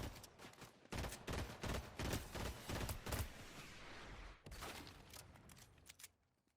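Enemies firing rockets in the video game Stranger Escape 2, a rapid burst of blasts and explosive shots, loud and dense at first, then a brief lull and another barrage fading out.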